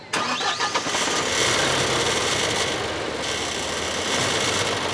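A Tata LPT 1916 BS6 Phase-2 truck's 3.3 litre diesel engine cranks and catches, then settles into a steady, loud, rumbling idle close by with no talking.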